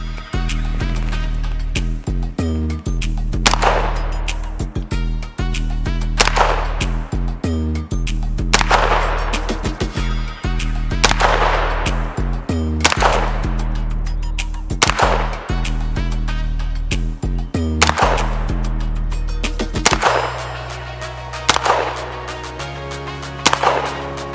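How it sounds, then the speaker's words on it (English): Gunfire from a B&T APC9 Pro G pistol-caliber carbine at an outdoor range, a string of sharp, loud shots fired at a steady, unhurried pace with ringing decay between them, no talking. "So let's shoot a little bit more"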